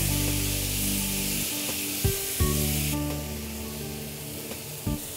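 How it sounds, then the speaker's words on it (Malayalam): Marinated fish is added to a sizzling masala mix in a pan, a steady hissing fry broken by a few sharp knocks and scrapes of a utensil nearby. "മിക്സ് നന്നായിട്ടൊന്ന് മൂപ്പിച്ചതിന് ശേഷം അതിലേക്ക് നേരത്തെ മാരിനേറ്റ് ചെയ്ത് വെച്ച ഫിഷാണ് ചേർത്ത് കൊടുത്തിരിക്കുന്നത്"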